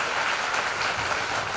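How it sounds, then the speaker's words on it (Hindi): An audience at a Hindi Day government ceremony gives a short, dense burst of applause for performing artists, a continuous wash of clapping heard alone. "जोरदार तालियों से इन कलाकारों का अभिनंदन करें"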